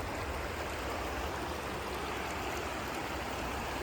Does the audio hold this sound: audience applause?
no